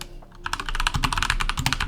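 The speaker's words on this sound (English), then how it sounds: "Now, if I type to them" Rapid typing on a computer keyboard, close and crisp, with a steady run of quick key clicks after a brief pause at the start.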